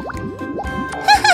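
Cartoon bubbles blown with a net, rendered as a quick series of bright bubbly blips and rising plops, followed by a short tonal chime-like flourish.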